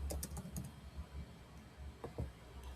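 Someone types on a computer keyboard in short, uneven bursts of soft clicks with brief pauses between them, close and fairly quiet.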